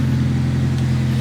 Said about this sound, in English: Just sounds like a B series.